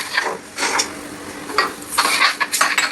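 Utensil scraping and clanking against a pan while a thickened sauce with shrimp and greens is stirred, in several close bursts with short pauses between them.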